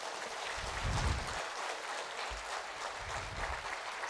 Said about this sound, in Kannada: ಎಲ್ಲರೂ ಒಂದು ಸಲ ಅಡಿಗಾಜವ್ರು ಜೋರಾಗಿ ಚಪ್ಪಾಳೆ ತಟ್ಟಿ.